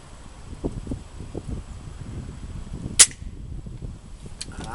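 A single crisp shot from a BM 59 rifle cracks once midway through, brief and fairly distant, over quiet outdoor background rustle with no talking.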